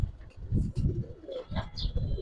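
A male Giribaz pigeon coos in repeated soft, low rolling phrases close by, with a few faint higher chirps from other birds in the background.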